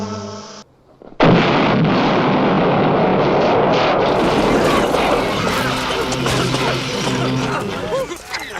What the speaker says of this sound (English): Wow, that was an expensive-looking explosion.